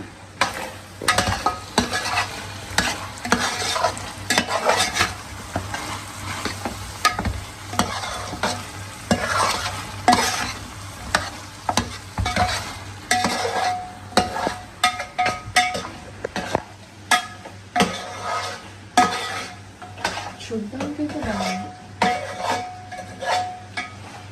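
Mutton being stirred and fried with ginger garlic paste for Rajasthani laal maas, with a steady sizzle and repeated scraping of a spoon against the pan, fairly close and continuous with no talking.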